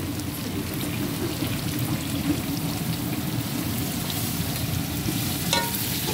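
Masala frying in a pot for plain cumin rice gives a loud, dense, continuous sizzle close by, with one sharp utensil click near the end and no speech.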